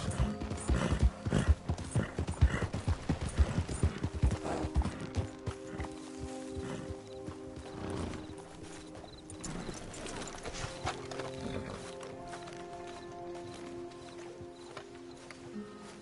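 Horse hooves clip-clop in a busy burst of close, irregular knocks at the start, then thin out over a quieter stretch, with a steady tonal hum in the background.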